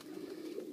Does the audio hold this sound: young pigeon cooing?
yes